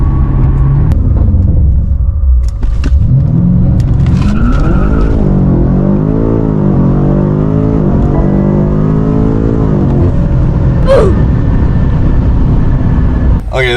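A BMW M5 F90 with over 700 wheel horsepower launches hard on a drag run, its engine roaring loudly and climbing through the revs in a continuous surge heard from inside the car, with some talk.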